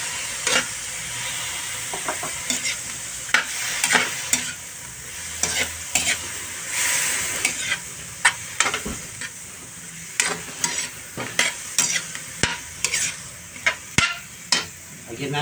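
Bitter gourd (ampalaya) stir-fries in a hot pan under a constant sizzle, punctuated by frequent sharp scrapes and knocks of a utensil against the pan in an uneven rhythm.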